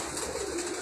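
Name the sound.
pigeon cooing on a rooftop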